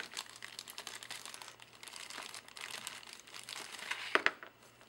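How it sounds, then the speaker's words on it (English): Plastic bag holding Finecast resin model parts for a Cockatrice kit crinkles softly and continuously up close, with a couple of sharper rustles near the end. "let's take a look inside this bag"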